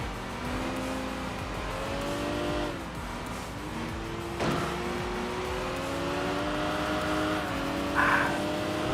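Honda NSX race car engines in Enthusia Professional Racing, a steady loud engine drone with rising and falling pitch as gears shift, a brief sharp transient midway and a short tire-squeal burst near the end.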